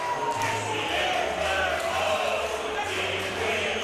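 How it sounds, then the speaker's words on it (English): Crowd roaring and cheering at a West Perth v Claremont WAFL Australian football match at the final siren, a broad, loud wash of many voices, with fans running onto the field. "as the crowd runs out onto the field"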